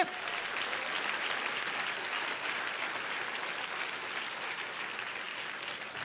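Church congregation applauding in worship, a dense and even roar of clapping sustained at moderate level throughout, with no one speaking over it.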